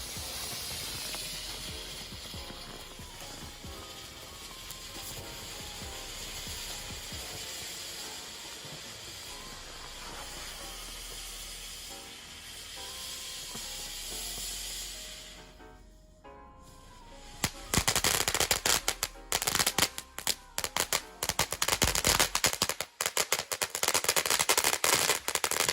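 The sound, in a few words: Short Stack firework fountain burning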